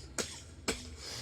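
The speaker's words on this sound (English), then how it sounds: "You are a skeleton, why do you have to cough?" Two short, sharp coughs from a skeleton character in the fantasy game Divinity Original Sin, about half a second apart, close and distinct over a low steady ambient hum.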